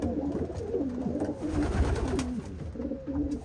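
Racing pigeons coo steadily among young birds in a loft, several overlapping rolling calls close by over a low continuous murmur, with no one speaking.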